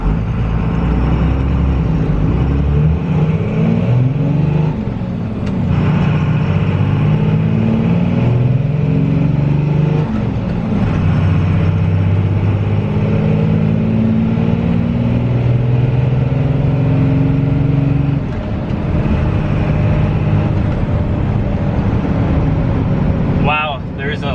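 A Cummins diesel truck with an Edge Comp chip in its 3x5 setting and an NV4500 manual transmission accelerates hard. The loud engine drone climbs in pitch, drops at each gear change, and climbs again across three or four shifts.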